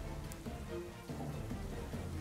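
Steady rain from the rain weather in a Pokémon battle game, a continuous soft patter and hiss of falling drops with no voices, constant and even throughout.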